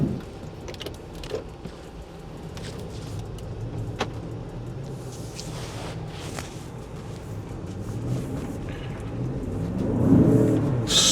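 A Land Rover Defender L663 driving through snow, with a steady low road and engine rumble throughout, small clicks and knocks on top, and a swell of louder low-end noise near the end.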